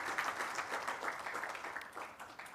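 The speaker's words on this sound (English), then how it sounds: "Give them a round of applause." A conference audience claps for the event's planning firm, many hands in a dense, even patter of moderate loudness that thins slightly near the end.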